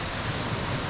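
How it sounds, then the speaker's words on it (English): Waterfalls in Wild Nephin National Park, County Mayo, rush in a steady, dense roar with no pauses, close and loud, with no voices. "the final drop, so I'm going to follow these waterfalls"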